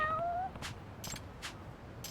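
A small cat in the video game Lost Judgment gives a few short, faint meows, spaced apart with quiet gaps between them.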